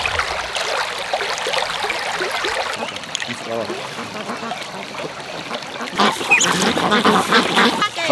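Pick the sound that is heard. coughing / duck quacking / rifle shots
duck quacking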